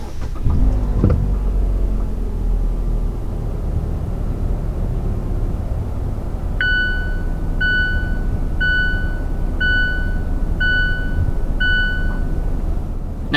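A 2022 Mazda CX-5 engine cranks and catches at the start, then settles into a steady low idle hum, close and loud, with a repeating electronic chime sounding over it later.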